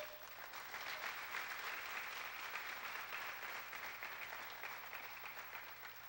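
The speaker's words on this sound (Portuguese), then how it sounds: "Aplauda o Senhor." Congregation in church clapping in praise during a preacher's sermon, a continuous broad patter of many hands, steady and somewhat distant, over a low background hum.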